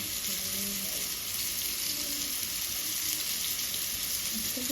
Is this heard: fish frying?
yes